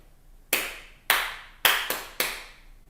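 Five sharp hand claps during a children's music rhythm game, loud and close, in an uneven pattern with short ringing decays and quiet gaps between them.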